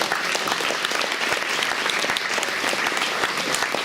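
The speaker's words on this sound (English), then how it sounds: "How about that for a round of applause?" Audience applause at a senior luncheon, dense steady clapping from a room full of people, loud and continuous throughout with no talk over it.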